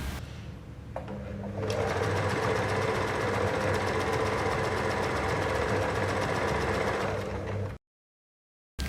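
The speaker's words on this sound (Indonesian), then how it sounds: "Singer cukup baik, bisa menjahit dengan baik dua bahan jeans tadi yang kita tumpuk jadi satu." A Singer beginner sewing machine stitches through two stacked layers of denim jeans fabric, running loud and continuous with a rapid mechanical chatter for about six seconds after a quieter start, then stopping abruptly.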